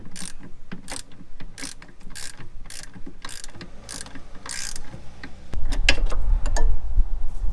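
Ratchet wrench loosening a rear suspension nut on a Subaru Forester, a rapid series of close, crisp ratcheting clicks followed by heavier metallic clunks and scraping.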